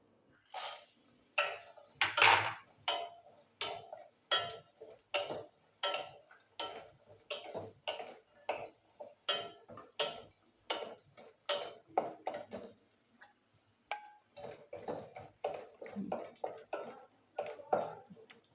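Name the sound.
lentil dumplings (bori) frying in oil in a wok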